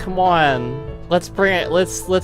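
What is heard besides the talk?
No everyday noises stand out.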